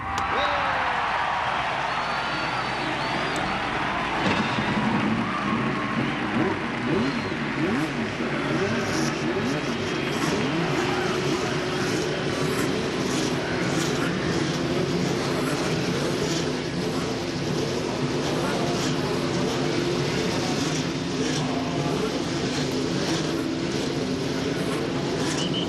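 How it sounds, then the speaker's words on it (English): Indy 500 race cars at the 1988 race start their engines on the main stretch at Indianapolis, a dense roar of many engines rumbling steadily throughout over a large crowd, loud and continuous. "And the engines are now started on the main stretch at Indianapolis."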